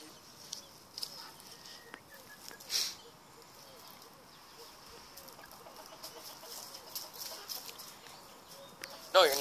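A baby chicken clucks and chirps faintly in the background, with soft short calls scattered over steady outdoor ambience.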